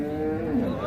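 A six-tooth dairy cow at a busy cattle market lets out a short, close moo that lasts about a second.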